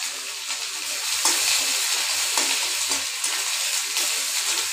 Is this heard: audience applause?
no